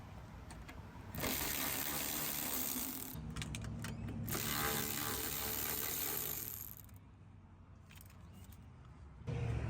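Ratchet or power driver loosening the top headlight bolts on a 2007-2013 Toyota Tundra, a quiet, steady mechanical whir and clicking lasting several seconds, close by and alone with no talk.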